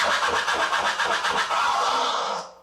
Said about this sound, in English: So this is the original scratch sound.